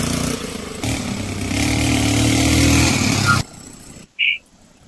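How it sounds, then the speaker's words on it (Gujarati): A motorcycle engine starts and runs with a rough, loud, close rumble that builds for a few seconds, then cuts off suddenly, followed by a short sharp noise. "બાઈક ચાલુ કરો"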